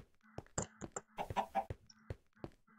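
Chicken in Minecraft's Stoneblock modpack clucking in a series of short, separate bursts, close and clear, with no talk.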